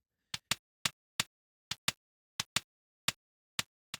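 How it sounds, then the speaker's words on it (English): Isolated high end of a kick drum: eleven short, sharp clicky ticks spaced in an uneven pattern over silence, close and dry, with no body or low thump. "And lastly, we have the high end of the kick, which sounds like this."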